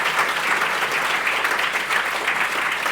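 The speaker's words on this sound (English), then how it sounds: "let's give these guys a big round of applause" Sustained audience applause after a conference session on FinOps, a full, steady wash of clapping from a large room with no voices over it.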